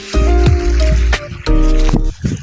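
Irrigation water pumped by a motor gushes into a wheat field, a loud near splashing, gurgling flow that surges in two long bursts with brief drips between.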